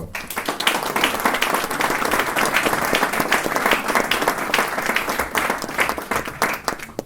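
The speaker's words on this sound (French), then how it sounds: "Merci à elles, je pense qu'on peut les applaudir." Applause from an audience at the inauguration of a housing information centre: loud, thick, continuous clapping from a sizeable crowd that stays level throughout.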